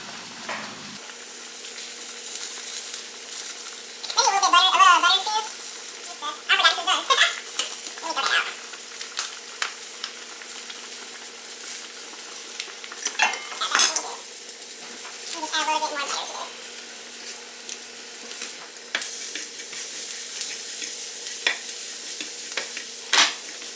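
Green beans seasoned with salt, pepper, garlic salt and garlic powder sizzle in a pan under a low, steady fry. Scraping stirs recur at intervals, and a voice talks in bursts over the cooking.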